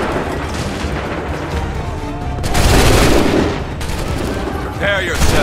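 A volley of musket fire in the video game Assassin's Creed 3, a loud sustained burst of gunfire rolling over a battlefield din, with shouted voices and a second crackle near the end.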